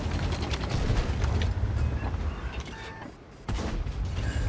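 A tank gun firing in World of Tanks, an AltProto AMX 30 battle, heard as heavy booming blasts with mechanical rumble, a dip, then another loud report.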